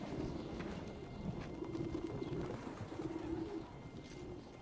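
Soft, repeated cooing of a dove or pigeon close by, in steady low murmuring phrases over faint background noise.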